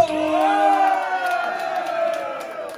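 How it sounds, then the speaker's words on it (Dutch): A crowd in a cafe cheers and applauds for a singer at his single presentation, a loud, steady swell of voices and clapping with sustained tones running underneath for about three seconds. "Dus dames en heren, geef hem nog één keer applaus."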